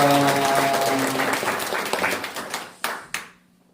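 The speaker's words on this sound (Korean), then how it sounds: "박수 한번 칩시다." Congregation applauding at an Easter Sunday church service, a dense burst of clapping with music or voices beneath that thins out into a few last scattered claps before fading to quiet.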